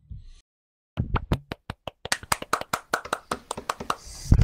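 Clapping to congratulate a podcast member on his new rank: after a brief pause, a run of many crisp, close hand claps that start sparse and quicken into a fast, uneven burst.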